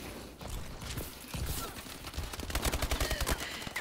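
Rapid gunfire in a shooter video game, a burst of repeated shots with a fast regular rhythm building toward the end, set in a busy mix of game noise.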